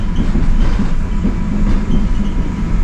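Interior of a Koleje Śląskie fast passenger train running on the Częstochowa line, a loud, steady low rumble of wheels on track with faint rhythmic clatter, heard from inside the carriage with no talk.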